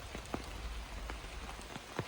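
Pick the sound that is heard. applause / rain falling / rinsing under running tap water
rain falling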